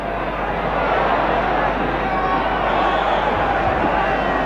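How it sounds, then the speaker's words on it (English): West Ham football crowd at a 1969/70 match against Manchester City, a loud, steady roar of massed voices that holds throughout, with no separate calls standing out. "The crowd desperately trying to rally West Ham now."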